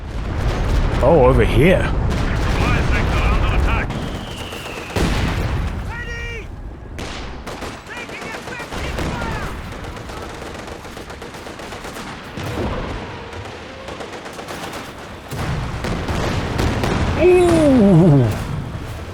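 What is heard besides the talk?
rocket barrage artillery in Company of Heroes 2 video game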